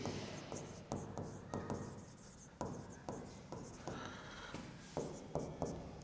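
Pen strokes on paper scratch and tap close by during an accounting lesson on depreciation, coming as short, irregular bursts of writing.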